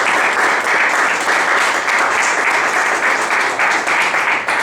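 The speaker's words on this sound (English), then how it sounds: "So round of applause for Toastmaster." Loud, continuous applause from a Toastmasters meeting audience, many hands clapping steadily and evenly for several seconds without talk.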